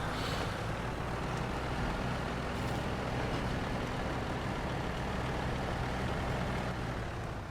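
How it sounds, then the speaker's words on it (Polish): A truck engine in the SnowRunner off-road game drones steadily and loudly throughout, a dense continuous rumble with no clear pauses. "Puszczę trochę gaz i rozpędzę się jeszcze raz, żeby auto zredukowało na 1."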